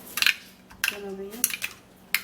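A spoon mixing a skincare paste in a small bowl, giving a few sharp metallic clinks and taps in short bursts, with a faint hum-like tone in the middle.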